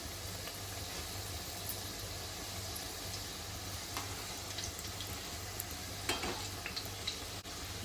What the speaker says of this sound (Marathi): तेल गरम करून घेतले त्याच्यामध्ये करंजी सोडायची अशी तेलामध्ये चांगली तळून घ्यायची